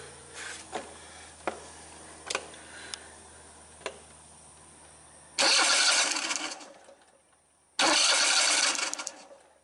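A Kohler Command twin engine being cranked over, with a few sharp ticks and clicks followed by two loud bursts of starter cranking separated by a brief pause.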